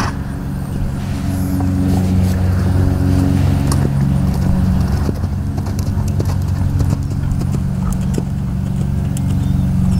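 Horse hooves canter in a steady three-beat rhythm on an arena surface during a dressage lesson, moderately close and continuous, with faint background noise and no clear speech.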